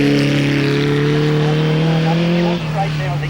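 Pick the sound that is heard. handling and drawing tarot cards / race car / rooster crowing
race car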